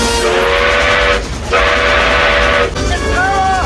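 A train from Back to the Future Part III blasts a loud, sustained horn in long blasts with brief gaps, over rumbling rail noise close by.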